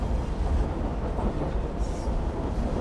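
A train rumbles steadily along its rails in the video game Assassin's Creed Syndicate, a dense continuous low roar with faint rattling, no voices.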